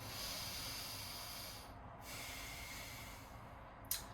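Slow, deep breathing during a guided inhalation exercise, a long steady airy rush of breath close to the microphone with a brief pause and a short sharp exhale near the end.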